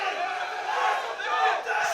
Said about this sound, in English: Oh, wow, the crowd is shouting at him.